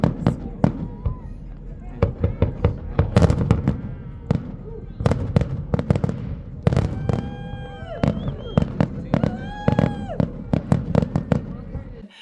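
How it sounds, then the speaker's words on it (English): Fireworks launched from a barge in the bay off Coco Cay, heard as a dense run of sharp bangs and crackling bursts, some whistling rises, with crowd noise and people talking underneath. "a big barge was brought out that shot the fireworks from it."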